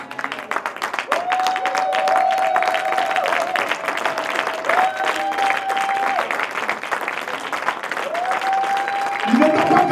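A church congregation breaks into sustained applause and acclamation for Jesus during a sermon, with voices and held keyboard tones running through the clapping for the whole stretch.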